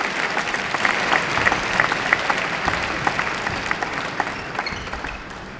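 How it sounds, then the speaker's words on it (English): A squash crowd at the Canary Wharf Classic applauds after a long rally, sustained clapping with a few whistles standing out near the start, then gradually thinning and fading away. "Well, crowd's going to erupt."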